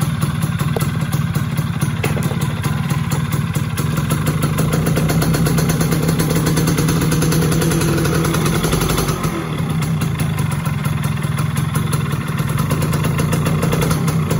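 A Yamaha F1ZR motorcycle engine runs steadily with the throttle held slightly open during carburetor tuning, a continuous buzzing two-stroke drone up close with no talk.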